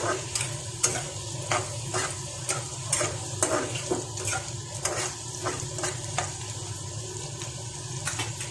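Prawns frying in a pan for a spicy masala curry, a steady close sizzle with repeated scraping stir strokes roughly every half second, no talk.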